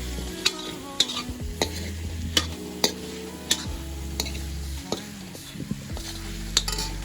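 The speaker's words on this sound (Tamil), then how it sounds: "ஸோ நல்லா ஃப்ரை பண்ணிக்கோங்க நல்லா சிக்கனை." Chicken frying with masala for a spicy Andhra-style dish, stirred briskly in a pan: sharp, regular scrapes and clacks of the spoon over a continuous close sizzle, with no voices.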